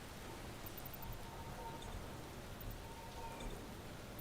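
Rain falls in the Space Engineers video game as a faint, continuous hiss of drops, steady and even throughout, with no voices over it.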